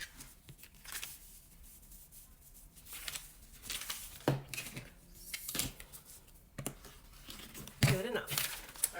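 Scissors cut fabric for a bikini top in a series of close crisp snips and rustles of cloth, irregular and fairly quiet, with a person speaking over parts of it.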